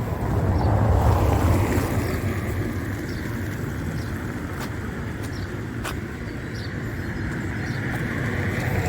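Cúa River rushing along the Camino de Santiago near Villafranca del Bierzo, a broad, steady roar of flowing water heard continuously outdoors, mixed with some wind buffeting on the microphone.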